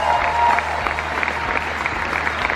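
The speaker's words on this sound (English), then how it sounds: "give them a big round of applause" Sustained crowd applause from an arena audience at the Monster Jam World Finals awards ceremony at Hard Rock Live in Orlando, a steady wash of clapping for the stadium champions with no gaps.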